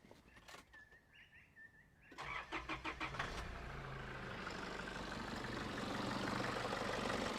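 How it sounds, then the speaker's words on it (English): Nissan Patrol GU engine starting: a few chirpy background birds and clicks, then the starter cranks in quick pulses before the engine catches and settles into a steady, close idle. "So I'll just go start the car now."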